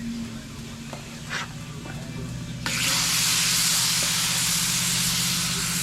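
Beef burger patties hitting a hot grill and breaking into a loud, steady sizzle that rises abruptly partway through and holds, with a low mechanical hum underneath and a few clinks before.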